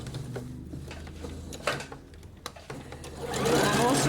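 A domestic sewing machine stitches flutter sleeves in short runs, its rapid needle whirring close by with pauses and soft handling clicks, picking up into a fast continuous burst at the end.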